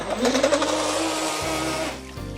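Small RC rocket boat motor running at about quarter throttle in a pool, a steady buzzing whine that holds through the clip, then drops away near the end.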